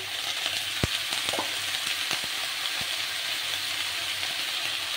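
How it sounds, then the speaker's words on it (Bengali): Drumstick flowers are stir-fried in a hot pan, with a constant close sizzle broken by a few sharp clacks and scrapes as a utensil stirs them. "সব কিছু নেড়ে করে এই হচ্ছে সজনে ফুল"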